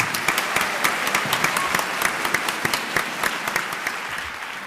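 An audience claps warmly and steadily at a formal evening ceremony, dense applause with a few sharper individual claps standing out, sustained and moderately loud without cheering or talk.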